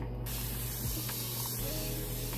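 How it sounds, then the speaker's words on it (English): A spray mister releases a continuous close hiss of fine mist onto hair locs, steady and unbroken for a couple of seconds. "So I'm just using spray mister"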